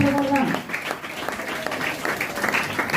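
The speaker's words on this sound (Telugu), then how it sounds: "చప్పట్లు కొడదాం" A church congregation claps together after a prayer, a moderately loud, continuous patter of many hands lasting a few seconds with voices mingled in.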